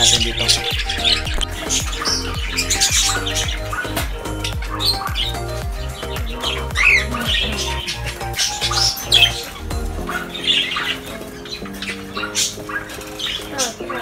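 Rainbow budgerigars in an aviary keep up a dense, continuous chorus of squawks and chirps from many birds, busy and close throughout.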